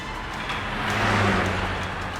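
A car moving at speed, its steady engine drone and road rumble swelling slightly and then holding, close and continuous with no talk.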